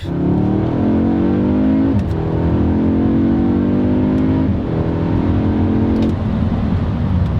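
A 2023 Audi S3 accelerates hard through the gears, its engine note climbing in pitch, dropping at each of several quick shifts, then climbing again, loud and close with no talk.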